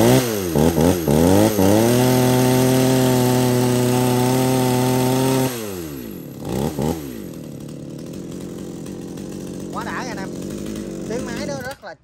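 A G370-series chainsaw with a Latin bar and cooling fins runs loud and close, holding a steady high rev before dropping to a rough idle broken by short throttle blips.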